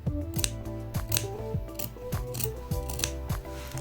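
Fabric scissors snip through a cloth rectangle down the middle for a double-welt pocket, a series of crisp close cuts in an uneven rhythm over quiet background music.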